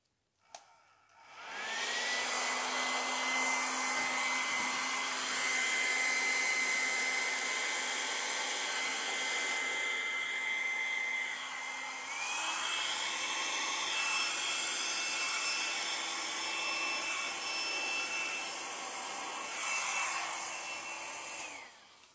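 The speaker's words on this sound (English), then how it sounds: "I'm going to start by using my little hair dryer" A small hair dryer blows steadily up close on poured paint, with a whining motor tone, shifting pitch slightly a couple of times before cutting off.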